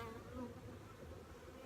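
Honeybees buzz around beehives in a short, faint, steady hum with a hint of nearby insect drone and no voices.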